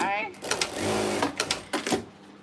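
A sewing machine stitches quilt pieces in short bursts of rapid whirring, heard close up beneath a person's ongoing talk.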